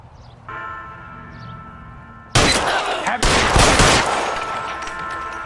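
Gunfire erupts in the L.A. Noire video game during a standoff: loud, dense bursts of shots start abruptly midway and rattle on continuously, after a quieter stretch of ambient tones.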